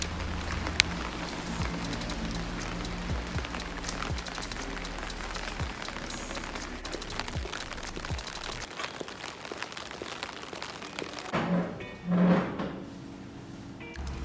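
Steady rain patters on a surface in Tokyo for most of the stretch, followed by a few quieter moments with soft knocks and shuffling near the end.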